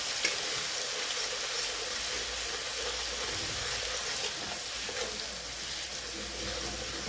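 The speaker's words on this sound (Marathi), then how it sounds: "हे तेल चांगलं गरम झालं ह्याच्यामध्ये लसूण अद्रकची पेस्ट आहे आणि हिरव्या मिरचीची पेस्ट आहे" Garlic, ginger and green chili paste frying in hot oil, a steady close hiss of sizzling that runs unbroken throughout with no talk.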